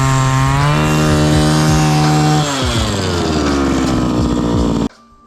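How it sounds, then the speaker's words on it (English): A gas-powered ice auger runs loud and steady close by while drilling a hole through lake ice for ice fishing, its engine pitch shifting as it bites, then cutting off abruptly near the end. "So let's go drill another hole."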